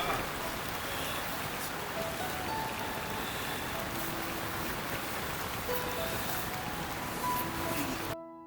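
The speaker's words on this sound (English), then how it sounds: "a heavy downpour had started" Heavy afternoon downpour on a Himalayan mountain trek, a dense steady roar of rain drumming on surfaces close by, unbroken for several seconds before cutting off abruptly.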